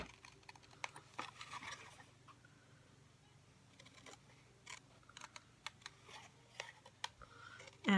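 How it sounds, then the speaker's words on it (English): Scissors fussy cut around a stamped paper image for a card project, leaving a narrow border: quiet, irregular snips and clicks scattered across the clip over a low steady background hum, close by and faint. "I'm just going to fussy cut all around, leaving just a little bit of a border"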